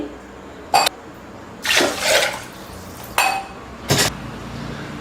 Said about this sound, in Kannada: ಇದೇ ಗ್ಲಾಸಲ್ಲಿ 2 ಗ್ಲಾಸ್ ನೀರು ಹಾಕ್ಕೊಳ್ಳಿ.